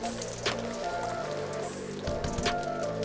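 Rain falls steadily outdoors on a drizzly day, a soft continuous patter with scattered drop impacts and a low background hum, no voices present.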